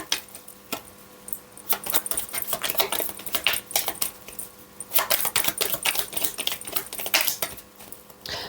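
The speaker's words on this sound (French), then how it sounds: "je vais prendre 2 autres cartes" Tarot cards are shuffled, drawn and handled in quick bursts of papery flicks and taps, close and fairly loud, continuing through several seconds without talk.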